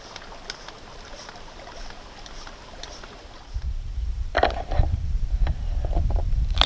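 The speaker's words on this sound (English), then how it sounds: "Nice little creek, cool and clear." A small, cool, clear creek near Basin Lake in the Hells Canyon Wilderness flows in a steady, soft trickle. Halfway through, closer, heavier splashing and low rumbling join in, with no talking.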